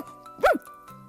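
A single short bark from a dog, part of a Grimm fairy tale reading, sounds once sharply and close amid quiet narration background.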